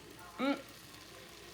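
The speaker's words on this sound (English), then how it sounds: "It's sizzling. Let me turn that down." Ground turkey with chili powder sizzles in a pan as a soft, steady frying hiss, faint and continuous, with one brief spoken word over it.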